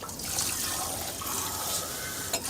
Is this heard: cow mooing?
no